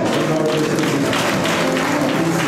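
A church congregation clapping during fervent French-language prayer, a loud continuous wash of hand claps with a faint murmur of voices beneath.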